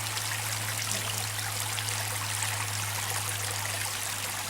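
Stream water pours over a small homemade weir, making a steady, close rushing flow with a faint low hum underneath and no voices.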